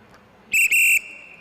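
A sharp referee's whistle at a short track speed skating championship sounds in two quick blasts, the second longer, loud and close over a quiet arena murmur.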